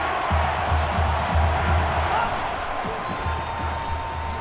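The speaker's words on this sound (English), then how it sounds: "The crowd is deafening." Stadium crowd roaring steadily in a college football video game, Georgia versus South Carolina, a loud dense wash of cheering on third down with rhythmic low thumps beneath and a voice talking over it.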